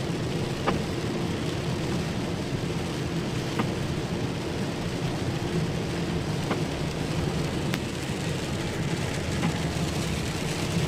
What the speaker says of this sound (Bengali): প্রচন্ড বৃষ্টি হইতেছে, প্রচন্ড।